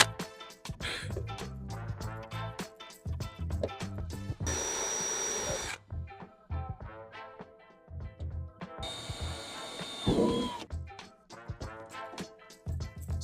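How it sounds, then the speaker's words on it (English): A power drill bores holes through the trunk of a Toyota Camry to fasten carpet, with two sustained whirring bursts of drilling, close and loud, set between stretches of background music. "drill a few holes for your carpet."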